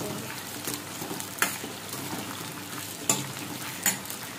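Chopped onions, four medium, going into hot oil with whole spices (cinnamon stick, bay leaf, black pepper, cloves and cumin seeds) for a whole masoor pulao, giving a steady close sizzle with a few sharp crackles and pops.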